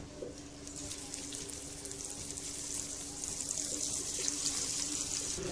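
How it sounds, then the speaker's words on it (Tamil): Fish pieces being fried in hot oil at medium flame for a Tamil-style fried fish dish, giving a steady, broad sizzling hiss that builds slightly louder toward the end, with no talking. "எண்ணெய் சுட்டுடுச்சு மீன் போட்டுடலாம் ஒன்று ஒன்றா"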